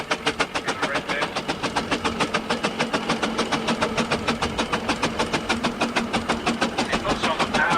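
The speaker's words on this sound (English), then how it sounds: "Especially the traction engine there, really working for its living in the red bit." A traction engine works hard at a 1997 vintage rally in Aldham, giving a fast, regular chuffing beat that stays loud and close throughout.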